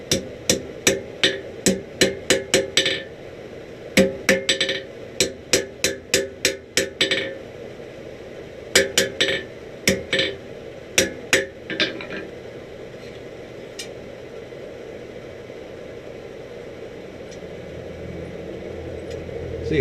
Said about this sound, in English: I'll have to hammer those back over just a little bit more.